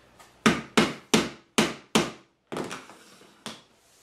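Sharp hammer-like taps knocking luxury vinyl plank flooring into place during a large floor installation, about eight crisp, close knocks in an uneven rhythm with short pauses between.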